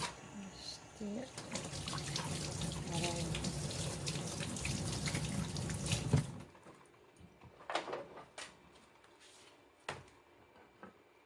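Tap water runs steadily into a sink while abalone is washed. The stream stops after about six seconds, leaving quieter scattered handling clinks and knocks.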